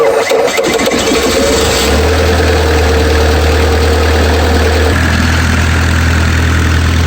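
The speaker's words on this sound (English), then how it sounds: "Next, I'm going to start the engine." A Kubota V2203 diesel engine in a Bobcat, after fuel system bleeding, cranks and catches, then settles into a loud, steady idle with a deep rumbling drone that shifts slightly partway through.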